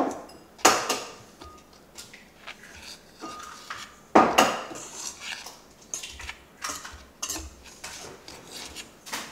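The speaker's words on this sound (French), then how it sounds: "je vais casser 2 œufs dans le petit bol et remuer" Eggs cracked into a small bowl and stirred while making Mickey-shaped waffles: two sharp cracks, then a steady run of light clinking taps of utensil against the bowl, close and fairly loud.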